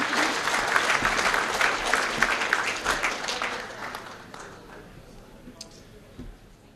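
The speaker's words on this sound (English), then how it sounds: "can we have a very big round of applause for our Volunteers of the Year" Audience applause at an awards night for a junior football league, a dense burst of many clapping hands that gradually thins and fades, with faint voices in the background.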